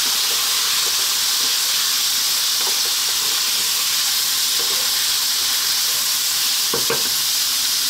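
Sliced red onion with browned beef pieces sizzling and frying steadily in a pan for a curry, a continuous bright hiss with occasional stirring scrapes and no voices.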